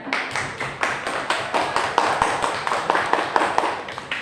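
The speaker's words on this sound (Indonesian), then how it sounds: "Tepuk tangan untuk semuanya." A primary school class applauds together in a classroom, a rhythmic, fairly even clapping with regular pulses that swell and fall, close and moderately loud, with no talking.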